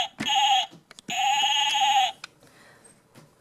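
A toy sheep from a farm animal playset gives two loud, electronic-sounding bleats in quick succession, each a sustained buzzy 'baa', followed by quiet handling noises.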